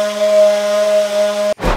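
A power sander works on sassafras wood pieces, giving a loud, steady tonal whir with a fixed pitch that cuts off abruptly near the end, followed by a brief burst of other noise.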